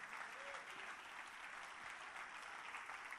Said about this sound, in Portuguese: Você pode aplaudir a Jesus porque está consumado?